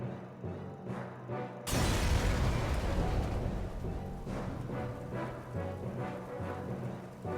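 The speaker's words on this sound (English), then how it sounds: "After a countdown, the boy was swallowed up by a massive explosion like something out of a Hollywood film" A massive explosion at a shooting range in the video game Ciconia When They Cry erupts suddenly after a quiet stretch, a loud broadband blast followed by a long, heavy rumbling roar that slowly settles.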